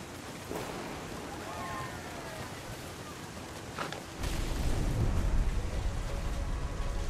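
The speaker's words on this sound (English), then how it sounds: "The thunder sounded much too close and full of angry power" Thunder and rain in What Remains of Edith Finch form a steady wash of rainfall that swells into a heavier, rumbling downpour halfway through, close and loud, with faint talk at the start.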